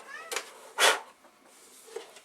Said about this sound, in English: And inside this box, by the way, Sheldon is a cat